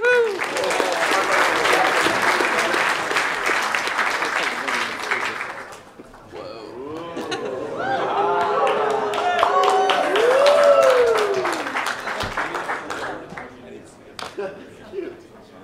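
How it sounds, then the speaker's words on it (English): A stage audience at the ETHBoston closing ceremony applauds as a team is welcomed up, loud dense clapping dropping away briefly mid-way, then surging again under cheering and a presenter's voice before thinning out. "then we will give them a round of applause"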